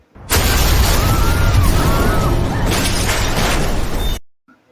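A sudden loud blast at a car door bursts out and roars for several seconds, a harsh, broadband explosion that cuts off abruptly into silence.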